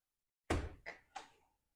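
The main entrance door of a modern stone farmhouse gives three quick knocking thuds, faint and close, in an otherwise silent room.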